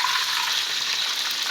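Boneless milkfish (bangus) fries in a pan with a steady, close hissing sizzle that holds unbroken throughout, with no voices.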